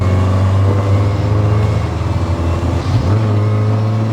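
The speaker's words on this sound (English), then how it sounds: "With the exhaust on it, it makes it worth every dollar of gas burned." A Porsche 944 engine rumbles steadily with a deep aftermarket exhaust note, briefly dipping and rising in revs, close and loud throughout.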